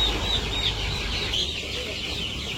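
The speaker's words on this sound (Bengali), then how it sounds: "তো মুরগির তো সকাল সকাল খাবার দেওয়া শেষ" Chickens cluck softly at close range in the morning after feeding, scattered calls over a low background hum.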